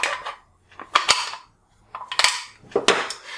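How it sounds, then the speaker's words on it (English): AICS magazine pulled out of the mag well of an MDT HS3 chassis, a series of short metallic clicks and clacks in three separate bursts, close and distinct with quiet gaps between. "So you're going to grab with your thumb and pull your mags out."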